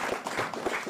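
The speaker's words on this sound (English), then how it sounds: "Another applause for them." Applause for participants at a mines first aid and safety competition, a modest crowd clapping steadily at close range for about a second.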